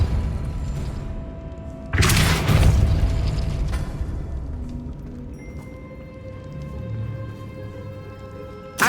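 Hogwarts Legacy's Depulso spell, a sudden loud whooshing burst that decays into a rumbling tail, followed by quieter magical ringing tones.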